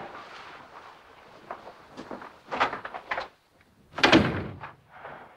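An interior door is closed in an old house, with a soft handling shuffle followed by a firm thump and clatter of the latch, close and fairly loud, with quiet movement around it.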